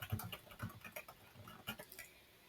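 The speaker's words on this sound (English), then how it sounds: "here I'm going to type my question." Quiet, quick clicking of keys as a question is typed on a computer keyboard, in short irregular bursts of close, soft taps.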